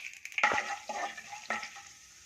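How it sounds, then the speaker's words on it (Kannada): Mustard seeds, cumin and chana dal hit hot oil for a beetroot palya, giving three sharp sizzling bursts that each flare up and then settle into a softer crackle. "ಎಣ್ಣೆ ಕಾಯ್ದಿದೆ ಸಾಸಿವೆ ಹಾಕ್ಕೊಂತ ಇದ್ದೀನಿ ಈಗ ಜೀರಿಗೆ ಹಾಕ್ಕೊತಾ ಇದ್ದೀನಿ ಸ್ವಲ್ಪ ಕಡಲೆಬೇಳೆ ಒಂದು ಮೂರು ಸ್ಪೂನ್ ಹಾಕ್ತಾಯಿದ್ದೀನಿ"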